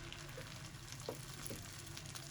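An egg fries in a little oil in a frying pan, giving a soft, steady sizzle with small pops, low in level and close by.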